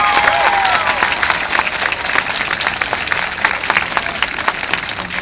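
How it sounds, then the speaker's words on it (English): Loud, sustained applause from a school audience at an elementary school Red Ribbon event, honoring military members. Continuous clapping fills the whole stretch, with a brief whistle-like tone early on. "Let's give our military a round of applause."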